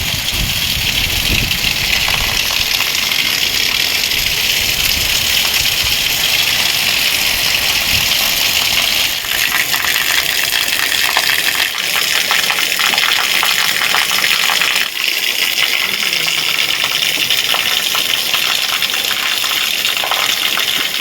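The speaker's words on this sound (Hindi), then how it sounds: "और पानी देखो, छत से ही इतना ज़्यादा पानी आ रहा है," Heavy rain in the hills, with water gushing off a roof in a loud, unbroken hiss and splash that stays steady and close throughout.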